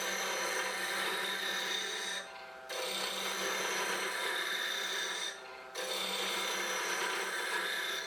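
A sharp spindle gouge cuts a maple spindle on a lathe, giving a steady, close, hissing scrape that breaks off briefly twice before starting again.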